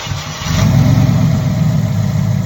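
A Ford F150 swapped with a small-block Ford V8 turns over and fires within half a second, then runs at a loud, steady, rumbling idle close by, with no talking.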